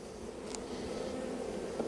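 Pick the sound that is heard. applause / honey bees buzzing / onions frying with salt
honey bees buzzing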